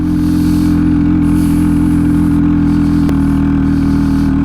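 Hero XPulse 230 motorcycle engine droning steadily while riding on a high mountain pass road, a loud continuous low hum with no speech.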